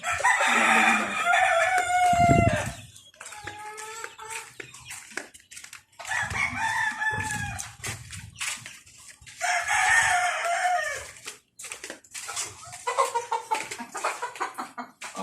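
Chickens in a backyard farm coop, a rooster crowing loudly and repeatedly over hens clucking close by.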